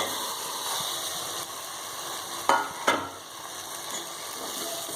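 Cut potatoes sizzle steadily in hot oil spiced with ground chilli, turmeric, mustard seeds, onion and green chilli, with two sharp scraping strokes of a stirring spoon breaking through the continuous hiss.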